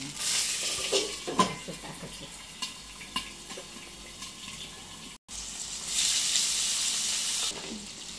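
Rice stirs in hot ghee over a high flame, giving soft scraping strokes and a steady sizzle with a few clinks. The sizzle swells near the end and a brief silent gap breaks it partway through.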